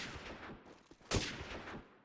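Gunfire in a Call of Duty 4 promod match on the Backlot map, with a quick burst of shots cracking out midway after quieter distant game sounds and faint caster talk.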